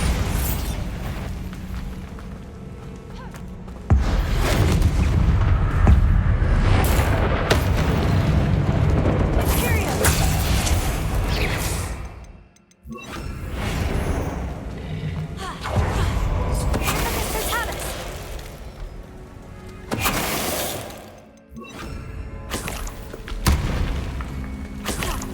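Bombarda blasting spell explosions in Hogwarts Legacy: repeated loud, deep booms with crumbling debris and rumbling tails, several blasts in succession separated by short near-silent gaps, close and heavy.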